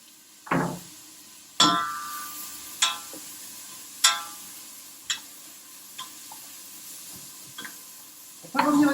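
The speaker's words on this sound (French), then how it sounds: "On va revenir les poivrons tranquillement donc avec les oignons" Peppers and onions sautéing in a pan for a vegan tomato-pepper concassé, a soft sizzle running under a series of sharp utensil stirs and clinks spaced every second or so.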